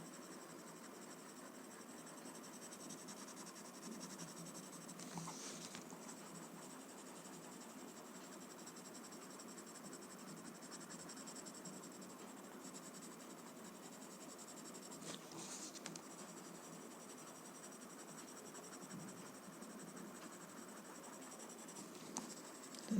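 A graphite pencil shades on paper in a soft, continuous scratching that stays faint and close, with a few slightly stronger strokes and no talking.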